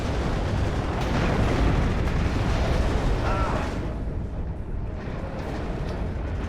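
A building collapses under a rocket explosion in the real-time strategy game WARNO during a T-55 tank battle: a continuous heavy roaring rumble of blasts and crumbling debris, loud and dense throughout, easing slightly toward the end.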